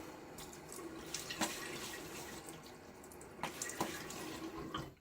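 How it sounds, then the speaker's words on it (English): Tap water runs steadily into a bathroom sink while a face is rinsed, with a few louder splashes around the start, middle and end, close and fairly quiet, no talking. "I'm gonna rinse my face."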